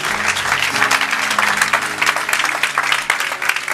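A church congregation claps steadily and enthusiastically throughout, a dense continuous wash of applause filling the room, with faint voices mixed underneath.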